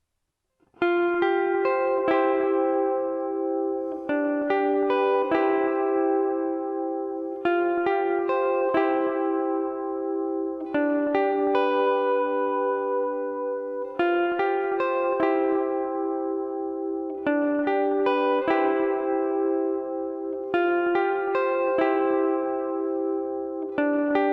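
An electric guitar plays a clean, sustained lead melody alone, with ringing repeated notes and steady phrasing at a moderate pace.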